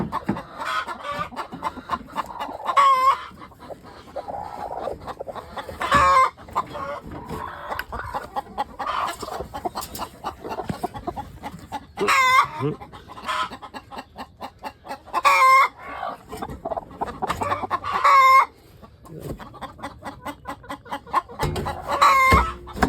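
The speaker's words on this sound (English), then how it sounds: "Brown egg-laying chicken." Brown egg-laying chickens cluck in a farm coop in the morning, with repeated loud, close calls and bursts of squawking and crowing over steady background fowl chatter, no talking.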